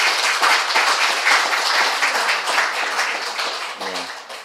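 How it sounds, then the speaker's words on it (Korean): Congregation applause for group leaders at a church Sunday group meeting, a dense steady wash of clapping from a full room that tapers slightly toward the end, with a brief low tone near the close. "우리 구역장님들에게 박수 한번 주시기 바랍니다"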